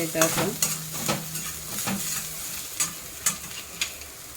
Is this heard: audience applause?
no